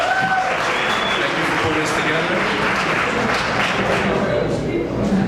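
Applause from a crowd at a fundraiser tribute evening for Leaf Newman-Jasmine Lynn, a steady continuous wash of clapping running under someone speaking.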